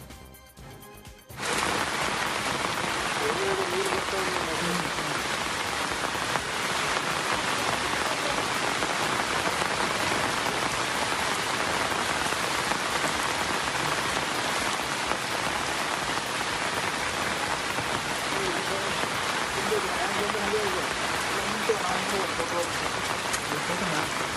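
Heavy monsoon rain in the Western Ghats region of Belagavi pours down continuously, a dense steady hiss of drops drumming on surfaces for the whole stretch after a brief quiet start.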